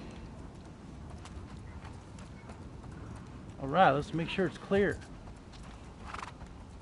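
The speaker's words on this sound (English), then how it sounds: "Horse is dancing." Horse hooves clip-clopping steadily in The Last of Us Part 2, soft under a voice that speaks briefly in the middle.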